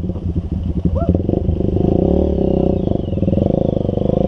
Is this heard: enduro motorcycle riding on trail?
yes